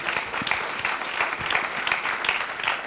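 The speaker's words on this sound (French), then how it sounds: "On peut l'applaudir, merci beaucoup." A panel audience at a TF1 campus talk on TV series applauds a guest with soft, steady clapping that holds at a moderate level throughout.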